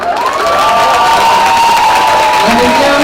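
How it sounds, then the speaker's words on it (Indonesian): A large indoor event audience bursts into loud, dense cheering and clapping, with shouts and whoops rising over a steady roar of the crowd for the whole stretch. "Ridwan Kamil sebagai Wali Kota Bandung, beri tepuk tangan."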